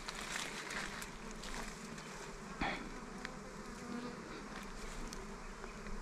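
Dwarf honey bees swarm and buzz steadily around a freshly harvested wild nest outdoors, a dense continuous drone with a brief louder knock midway.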